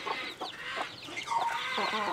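A hen clucks repeatedly in a coop holding chicks, with short nasal calls in uneven bursts close by and steady farmyard bustle underneath.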